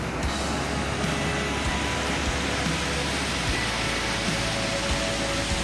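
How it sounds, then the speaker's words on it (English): Dense, steady rushing of water fills the clip, a constant loud roar with no breaks, like a waterfall heard close by. "that noise is the start of the waterfall"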